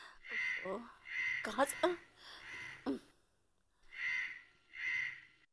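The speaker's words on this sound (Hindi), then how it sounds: "बच्चे को खाना खाने में कौवा परेशान कर रहा है" A crow caws harshly several times in quick succession, fairly close, while someone talks and coaxes a child to eat.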